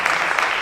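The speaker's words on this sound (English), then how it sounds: "Let's give this panel a round of applause." Applause from a conference audience for a panel on medical marijuana, a short, dense wash of clapping that is steady and fairly loud from start to finish.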